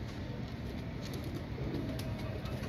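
A female Dub Walay pigeon coos softly under a constant low background rumble, its short muffled calls repeating through the few seconds.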